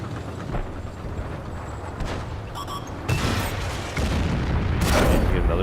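Tank cannon fire in a tank video game: two heavy broadband blasts about two seconds apart, each followed by a sustained rumbling roar over continuous engine and battle noise, with no speech.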